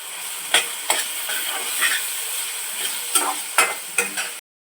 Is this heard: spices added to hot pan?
yes